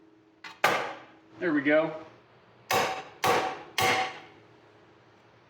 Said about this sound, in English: So I'll try hitting this upper ball joint on the sides and see if it'll drop down.